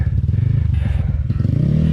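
A low-clearance Japan-made motorcycle chugs over rough, bumpy trail ground, close and loud, with rapid engine pulses, clattering knocks and a rising rev toward the end.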